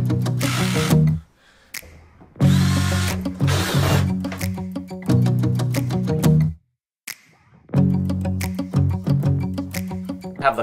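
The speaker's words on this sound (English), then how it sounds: "we gotta drill the hole for the float valve, and we need a 1/2 inch" A power drill bores a half-inch hole for a float valve in an RO/DI reef water setup, heard as loud close bursts of motor whine and grinding, stopping and restarting three times with short silent gaps.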